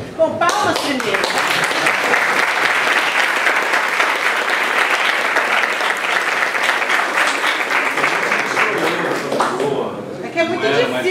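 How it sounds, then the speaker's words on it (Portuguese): An audience at a talk breaks into sustained applause, dense clapping that holds steady for about ten seconds before tapering off. "palmas primeiro."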